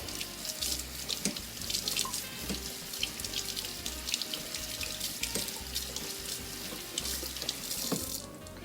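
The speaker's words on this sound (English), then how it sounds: "We're going to rinse them out under cold water." Cold tap water runs steadily into a sink, splashing and rattling through a sieve as mushrooms are rinsed, with no voices, ending with a brief shift in the flow.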